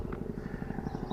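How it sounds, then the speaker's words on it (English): A helicopter flies over a village, its rotor giving a steady, fast, low thudding chop at moderate loudness for about a second. "More helicopters and planes"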